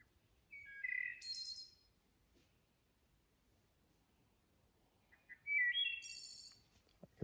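Two separate bursts of fluting, bell-like wood thrush song, close and clear outside a tent on the Appalachian Trail, each a short phrase ending in a high trill, with quiet stillness between.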